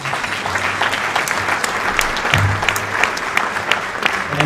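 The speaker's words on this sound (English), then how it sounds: "Everyone, round of applause for Abuna Dawood." Banquet audience in a reception hall breaks into dense, steady applause, many hands clapping together at close range without a break.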